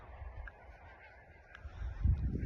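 Geese honk noisily at a distance, a cluster of overlapping calls that grows louder and busier toward the end.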